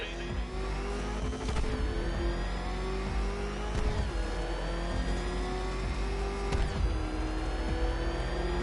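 The Batmobile's engine revs in a PS4 game, a steady mid-pitched motor whose pitch climbs and drops with gear-like shifts, with occasional sharp impacts, loud and continuous with no talk.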